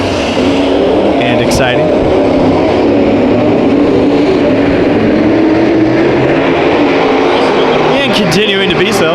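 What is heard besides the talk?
modified race cars racing at Santa Maria Raceway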